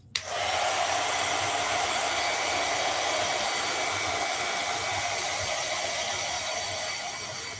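Hair dryer blowing steadily to dry a sketch, a loud, close, continuous hissing roar that starts abruptly and holds for several seconds without talk.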